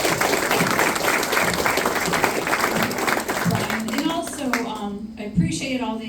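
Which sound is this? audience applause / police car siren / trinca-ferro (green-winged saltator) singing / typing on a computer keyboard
audience applause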